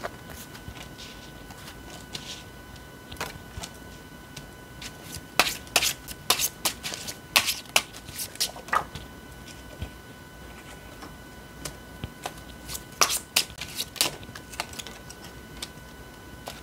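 Tarot cards being shuffled and handled, quiet papery riffles and clusters of crisp clicking flicks in short bursts, close and soft against a faint steady hum.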